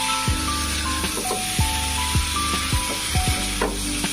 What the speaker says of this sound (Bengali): সাথে সাথে আমাদের সবজিটা আরো সুন্দরভাবে কষানো হয়ে যাবে।